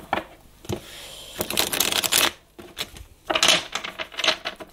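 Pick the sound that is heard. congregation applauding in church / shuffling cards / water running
shuffling cards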